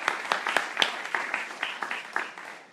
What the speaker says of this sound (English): let's give a round of applause for the candidates who have arrived tonight